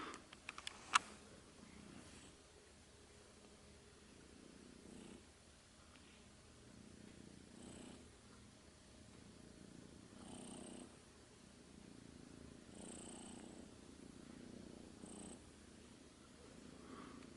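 A sick kitten with an upper respiratory infection and a snotty nose purrs softly and steadily in a quiet room, a faint continuous rumble with no talking.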